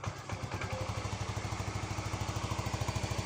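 A Yamaha Mio M3 scooter engine, recently repaired after a rat-caused fault, idles steadily and close by, with a fast, even thumping putter that holds without a break for the whole stretch.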